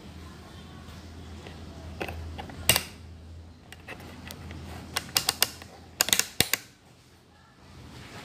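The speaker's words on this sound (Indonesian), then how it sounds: "Jadi selektor switchnya ini kita putar ke arah ohm." Selector switch on an analog multimeter being turned, giving a few faint mechanical clicks and ratcheting snaps over a quiet hum, with one cluster of sharper clicks near the end.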